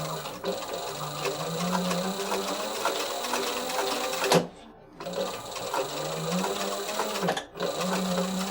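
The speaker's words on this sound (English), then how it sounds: "You're sewing through a lot of padding." Sewing machine stitching through thick backpack padding, a continuous close mechanical whirring rattle that pauses briefly twice before resuming.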